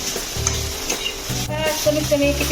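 Ambadi (sorrel leaf) bhaji is stirred and sautéed in a pan, with a close, steady sizzle and repeated scraping stirs. A few quiet spoken words come in briefly near the middle.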